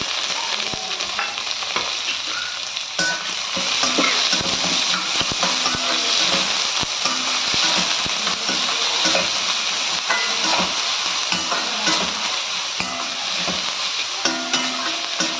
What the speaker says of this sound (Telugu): దాంట్లోకి నేను ఒక మీడియం సైజు ఆనియన్ వేస్తున్నాను